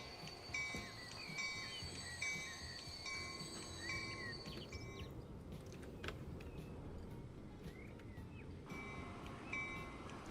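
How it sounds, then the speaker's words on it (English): Penn Central E44 electric locomotive number 4415 running in the Transport Fever 2 game, a steady rail rumble with wheel and track noise, some high squealing tones and a few clanks, moderately loud and without speech. "I want to get a closer look at this locomotive."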